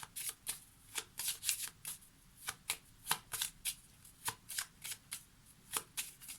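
Tarot cards are shuffled close up in a steady run of quick papery riffles and taps, many even beats over several seconds, quiet and without speech.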